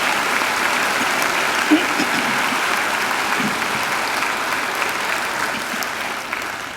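Sustained applause from a graduation ceremony audience after an occasional address, steady and dense throughout with no pauses.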